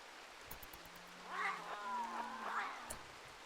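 Cat meows and yowls from the Rimworld video game, a few drawn-out tonal cries rising and falling over about three seconds, moderately loud against a soft background.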